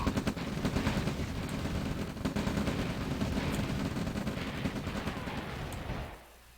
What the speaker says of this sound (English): succumbing to rifle fire